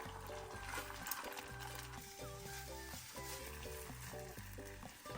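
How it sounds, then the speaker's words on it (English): A soft, steady sizzle of eggs frying in a pan runs throughout, faint and continuous, with a low humming tone underneath. "Sizzle, sizzle."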